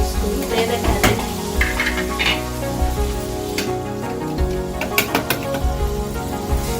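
Steady, crackling sizzle of ingredients for mango pickle frying in oil until golden brown, continuous throughout, with occasional louder pops and clinks of a utensil.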